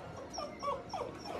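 Puppies whimper and yip softly at a rescue in south Texas, a few high, thin whines rising and falling close by over a steady low background hum.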